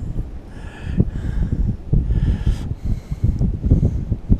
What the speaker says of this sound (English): Probably can't hear what I'm saying because of the wind